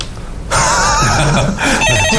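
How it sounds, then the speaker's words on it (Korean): A telephone rings in a radio studio during a stock market call-in broadcast: a loud, continuous electronic ring starts after half a second of near-quiet and holds to the end, with a brief dip in the middle. "자, 전화가 왔네요"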